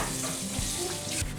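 Tap water runs steadily in a kitchen sink as something is rinsed off under it while cooking a mini Doritos meatloaf dinner, a brief, close, continuous hiss with no talk.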